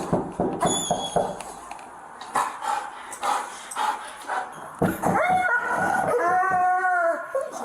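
A dog howls and yips up close, with whimpering, rising and wavering howls that build into a long drawn-out wail near the end, no speech over it.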